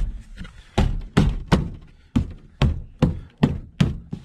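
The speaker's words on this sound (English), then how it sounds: "banging all those little clips back into the wall, into the door" Plastic trim clips banged into a Suzuki X-90 door panel by hand, about nine sharp, hollow thumps in a steady, fairly even rhythm, close and loud, with no talking.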